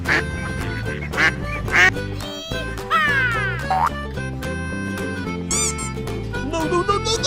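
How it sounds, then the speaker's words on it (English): A toy duck quacks several times in a children's farm-animal toy play scene, its squeaky electronic calls arriving in short bursts over busy background music. "Yellow duck."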